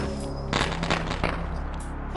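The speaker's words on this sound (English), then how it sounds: "Fireworks show." Rapid crackling bursts of fireworks explode in the Sly Cooper video game, several overlapping pops over a steady low game hum, loud and dense for about a second then thinning out.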